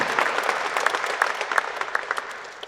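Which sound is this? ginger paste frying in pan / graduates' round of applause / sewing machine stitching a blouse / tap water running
graduates' round of applause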